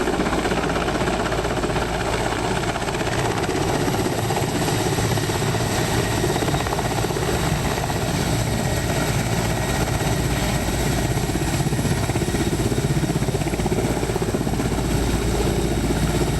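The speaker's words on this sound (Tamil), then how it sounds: "ஹெலிபேட் தளத்தில் ஹெலிகாப்டர்களை இயக்கி சோதனை மேற்கொள்ளப்பட்டது." Helicopters run at a helipad near Yatri Nivas during a trial, their engines and rotors producing a loud, steady whine and throbbing roar that holds unbroken from start to finish, close by and with no speech.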